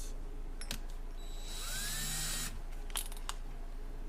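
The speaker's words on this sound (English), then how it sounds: "I'll just have to drill it out, right?" A high-pitched power drill whines and bites into metal in bursts, drilling out part of a 1903 brass gas light fixture, with a rising tone midway, followed by a few sharp clicks.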